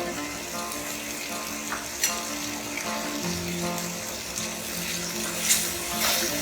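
Raw banana pieces sauté in hot oil with turmeric powder, giving a continuous close sizzle with occasional stirring scrapes and light clinks against the pan.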